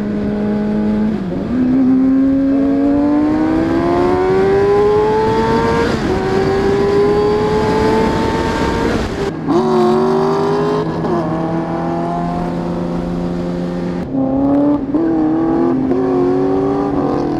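Motorcycle engine heard from the saddle at speed, pitch climbing steadily through the gears with sharp drops around 9 and 14 seconds as it downshifts, loud and continuous wind-buffeted drone throughout.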